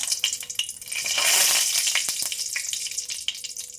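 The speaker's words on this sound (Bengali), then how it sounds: "এবার এই তেলেই দিয়ে দেব একটি শুকনো লঙ্কা" A dried red chilli dropped into hot oil, giving a bright sizzle that swells in the middle and then settles into a steady crackle, close and alone with a few small clicks.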